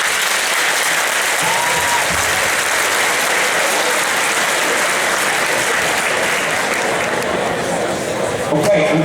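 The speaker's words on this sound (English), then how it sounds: "let's give Romeo a big round of applause." An audience at a presentation claps steadily and densely, a loud, sustained round of applause with no break from start to finish.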